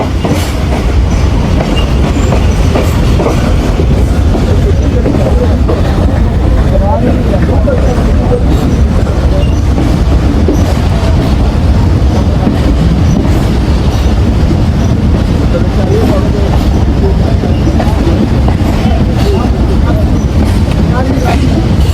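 Pakistan Railways' Khyber Mail, running between Lahore and Peshawar on a rainy journey, roars loudly from onboard with steady wheel rumble and rhythmic clickety-clack throughout, a continuous heavy din with no pauses.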